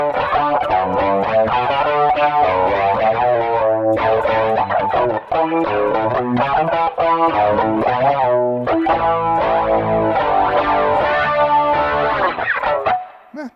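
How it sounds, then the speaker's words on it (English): Electric guitar with slapback and plate reverb, aiming for a studio tone, playing continuous chords and notes with a short echoing reverb tail, loud and sustained, ending with a brief ringing decay. "They just had a lot of slapback. So reverb, let's go studio."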